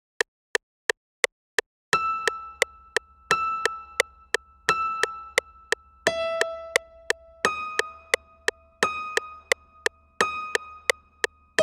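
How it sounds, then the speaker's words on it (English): A piano loop plays on an MPC using the Club Piano X preset: bright, repeated chords and notes in a steady rhythmic pattern, each struck note decaying quickly, with sharp clicky attacks ticking along throughout. "the preset we're going to be using today is the Club Piano X preset"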